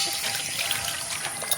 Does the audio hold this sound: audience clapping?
no